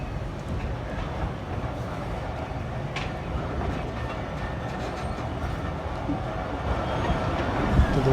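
A Millat Express passenger train sits at a railway station on the run from Mandi Bahauddin to Jahania. A continuous mechanical rumble with faint clatter swells slightly louder near the end, with no voices.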